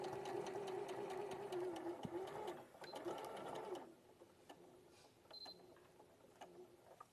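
A sewing machine stitches fabric in a steady, fast run of needle strokes for a few seconds, then slows and stops, leaving quieter intermittent mechanical clicks at a low level.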